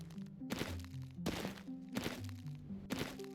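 Crunching hits in a video game ice race, landing as four loud, evenly spaced impacts over shifting tonal game sounds.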